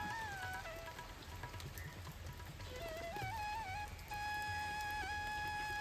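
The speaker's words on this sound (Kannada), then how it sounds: "ಈಗ ಒಳ್ಳೆ ಮಳೆ ಬಂತು." Rain falls in a steady, even hiss, with thin whistling calls rising and dipping above the downpour; no voices.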